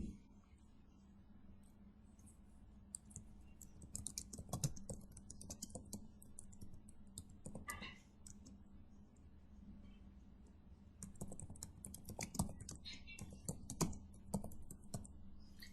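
Typing on a computer keyboard in Notepad, with irregular bursts of close keystroke clicks and short pauses between runs, fairly quiet and with no talking.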